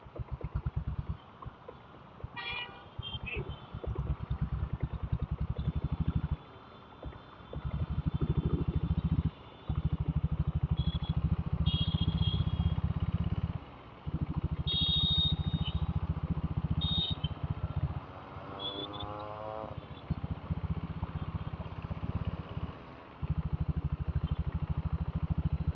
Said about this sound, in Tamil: ஓ, இந்த பக்கம் பாருங்களேன் எவ்வளோ டிராஃபிக்னு. செம்ம டிராஃபிக்.